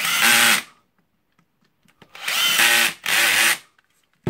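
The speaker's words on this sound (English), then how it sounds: "of course screwing in the screws" Power screwdriver driving screws while a Makita GA5030 125 mm angle grinder is reassembled, three loud, close whirring bursts separated by brief silences.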